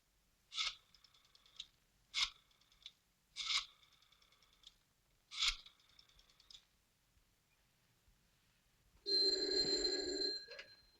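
An old-fashioned telephone bell rings in four separate buzzing bursts, evenly spaced and fairly crisp, in a quiet room, then a louder scratchy rattle closes the run.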